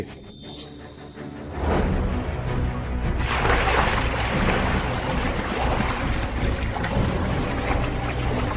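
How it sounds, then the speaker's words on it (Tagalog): Pig's blood poured from a boat into the water: a sudden heavy splashing gush that keeps going steadily for several seconds over a windy open-water background, with no talk. "Ibubuhos ko na ang dugo sa tubig!"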